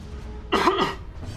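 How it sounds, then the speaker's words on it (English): A single short throat-clearing cough, close and fairly loud, breaking a quiet background. "Doing a big old cough."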